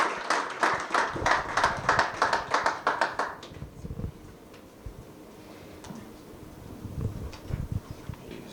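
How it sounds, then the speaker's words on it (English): Brief applause at a breakfast gathering of agricultural financiers as a speaker comes up, scattered rhythmic clapping for about three seconds, then fading into quieter room noise, footsteps and thuds. "Let's give her a round of applause and encourage her as she comes up."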